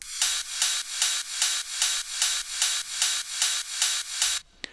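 A steady, even pattern of bright layered ride cymbal hits for industrial techno, about ten strikes in a groovy rhythm, with a shimmering wash beneath, played alone.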